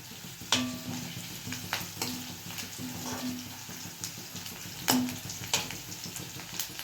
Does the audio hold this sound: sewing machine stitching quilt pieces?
no